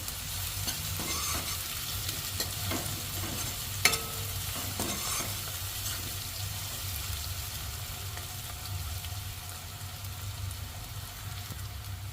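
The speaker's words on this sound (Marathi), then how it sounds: "आपण तेलावरती छान प्रकारे परतून घेऊया." Chopped onion sautéing in oil for matki bhaji, a continuous sizzle and frying hiss with repeated spatula stirring and scraping against the pan, steady and moderately close.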